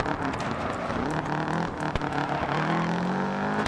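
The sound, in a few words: Subaru Impreza WRC 2001 engine revving in Dirt Rally video game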